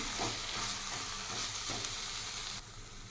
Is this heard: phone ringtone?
no